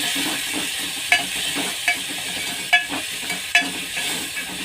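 Tomatoes fry with salt in a pan for a tadka dal, a steady close hiss of frying broken by four evenly spaced metallic spatula scrapes, no voices.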